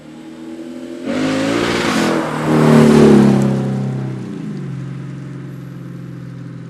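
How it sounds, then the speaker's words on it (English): The V8 in a 2008 Lexus IS-F snarls as it revs up hard, swelling to a loud growling peak before settling back to a lower, steady idle-like rumble. "That snarling V8 features variable valve timing, dual overhead cams, direct injection"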